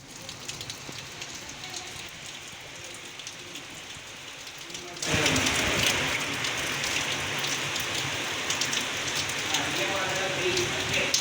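Monsoon rain in the Western Ghats Malenadu hills around Sringeri, a steady dense hiss of falling rain that swells abruptly louder midway and keeps pouring without voices.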